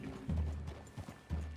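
Horse hooves clip-clopping in Red Dead Redemption 2, a few soft, close, rhythmic thuds at a slow walking pace, fairly quiet with no talk over them.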